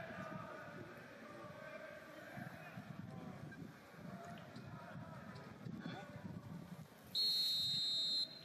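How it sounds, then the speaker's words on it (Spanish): A referee's whistle in PES 2021, a bright sustained blast near the end, following a stretch of crowd roar and stadium ambience with a commentator talking. "Suena el silbato"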